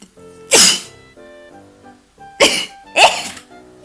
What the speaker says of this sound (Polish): O, musiałam sobie kichnąć.